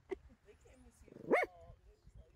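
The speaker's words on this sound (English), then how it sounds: "See why you're barking at me?" A dog gives a short bark-like yelp near the start and a louder whining bark midway, close to the microphone, among quiet talking.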